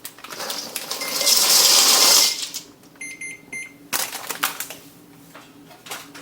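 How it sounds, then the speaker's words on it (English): Dry pasta shells pour into an Instant Pot with a loud, rattling hiss of tumbling pieces for about a second, followed by scattered clinks and light taps of shells settling against the metal pot. "And we're just going to dump the pasta right in."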